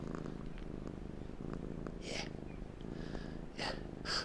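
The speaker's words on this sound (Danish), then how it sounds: "man kan høre, at den spinner på livet løs" A domestic cat purrs steadily and close by, a continuous low rumbling hum with a few soft sniffs and breathy snorts over the top.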